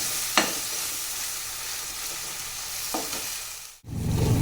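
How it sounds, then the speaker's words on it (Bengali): Spice paste with turmeric and Kashmiri chili powder fries in oil in a pan, a steady close sizzle broken by a few sharp stirring scrapes, then a brief drop and a louder burst of frying. "এবার ভালো করে মশলাটাকে ভেজে নেব বন্ধুরা"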